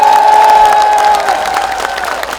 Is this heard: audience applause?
yes